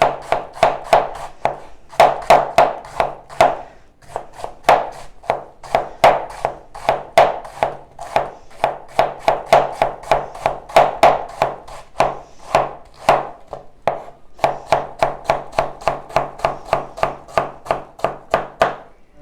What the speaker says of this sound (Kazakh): Енді капустамызды осылай жіңішкелеу қылып кесеміз.